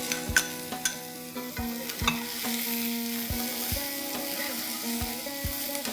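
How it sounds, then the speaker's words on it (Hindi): Onion and tomato masala cooks in a kadai for restaurant-style kadai paneer, giving a steady sizzle with low harmonic tones over it and periodic sharp knocks, likely from stirring or utensils, at even loudness with no talk. "पकने देंगे 5-7 मिनट तक, जब तक हमारे टमाटर सॉफ्ट नहीं हो जाते"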